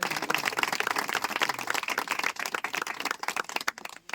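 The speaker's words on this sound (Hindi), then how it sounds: "जोरदार ताली बजा करो प्रभु के लिए" A church congregation claps loudly for the Lord: a dense, sustained burst of many hands beating fast and unevenly, close and full, thinning slightly toward the end.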